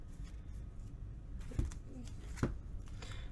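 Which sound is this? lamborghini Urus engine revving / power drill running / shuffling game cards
shuffling game cards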